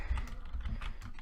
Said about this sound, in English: Sorry about my slow typing. I've got the microphones right in front of my keyboard.